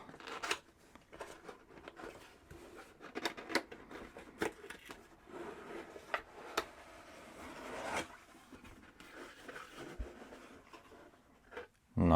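PNY RTX 5070 Ti graphics card box being opened, soft cardboard scrapes, rustles and small taps close up, ending in a sharper thump.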